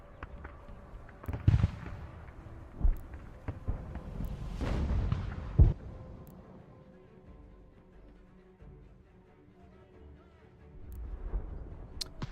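Mortar artillery fire in Ultimate General: American Revolution, several deep booming blasts spaced irregularly apart, each rolling out and fading, with quieter battlefield rumble between them.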